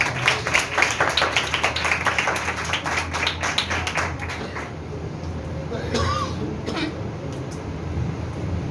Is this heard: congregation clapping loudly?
yes